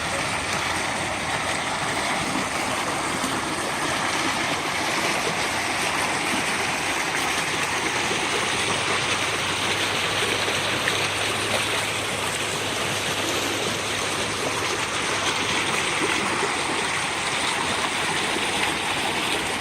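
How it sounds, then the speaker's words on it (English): A river rushes steadily through a culvert in the Alabama Hills on the way to Mt. Whitney, giving a continuous, loud broadband roar of flowing water with no breaks and no voices. "the river comes through here, rushing through in the culvert"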